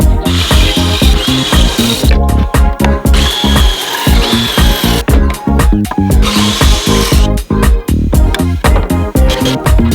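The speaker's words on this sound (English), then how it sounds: "I'm gonna go ahead and add pocket holes" A power drill bores pocket holes into plywood pieces for a built-in banquette bench, loud and close, running in repeated bursts with brief pauses between holes.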